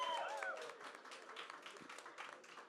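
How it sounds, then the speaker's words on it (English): Audience applause at a concert, a fairly faint patter of clapping from a crowd that carries on steadily for under three seconds after a brief whistle-like tone at the start. "I want you all to give yourselves a big round of applause for coming down tonight."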